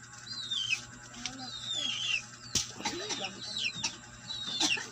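Young chicks peeping in a pen, several thin high chirps repeating close by over a faint hum, with a sharp knock partway through and no talking.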